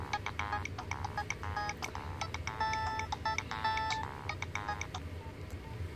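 Ringtone on a Samsung Galaxy Note 2, a rapid repeating electronic melody of bright tones playing steadily with low background hum and no talk.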